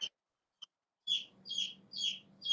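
Newly hatched chicks indoors give a series of bright, high chirps, a couple of short isolated peeps followed by four rapid repeated calls close to the microphone over a low background rumble.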